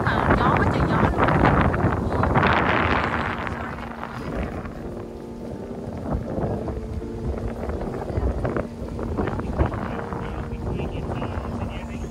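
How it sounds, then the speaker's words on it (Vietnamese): Strong gusty wind buffets the microphone outdoors, a loud rumbling roar that eases partway through and is followed by quieter wind under faint voices and background sounds. "mới ra một chút xíu mà gió quá trời gió luôn"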